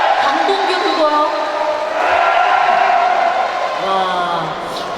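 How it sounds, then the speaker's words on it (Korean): Large crowd at a New Politics Alliance primary for North Jeolla governor, held in a university gymnasium, cheers, whoops and claps loudly and steadily throughout, with shouting voices rising over the roar. "박수와 함성으로는 분간하기가 어렵군요"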